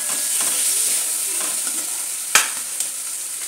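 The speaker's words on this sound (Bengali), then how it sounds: "তাই একটু নাড়িয়ে নি, গ্যাসটা বাড়িয়ে দিই হালকা। এটাকে আর একটু কষিয়ে নেব।" Curry stirred and fried in a pan over a gas flame gives a steady close sizzle with soft scraping strokes, a sharper clack near the middle and a lighter one after it.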